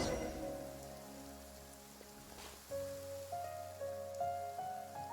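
Rain falling in the video game Genshin Impact, a soft steady patter of drops beneath sustained tonal game music, fairly quiet and continuous with no voices.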